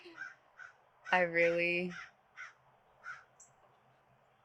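A crow caws in a garden: several short calls spaced out before and after one long, loud harsh caw, with someone speaking softly over part of it.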